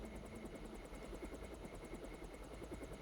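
A helicopter from the Deus Ex video game drones steadily with a rapid, even rotor chop, moderately quiet and unbroken, with no voices over it.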